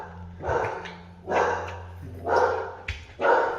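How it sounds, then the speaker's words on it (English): A dog barks four times at a roughly even pace, fairly close, with short gaps between barks, during a break on a long off-road motorcycle trip on the Trans American Trail. "Barking at Moses."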